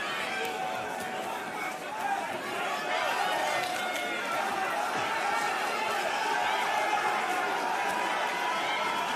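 A boxing arena crowd of Jonas Segu fans at a WBF title fight, a continuous roar of chatter and cheering with someone talking over it throughout.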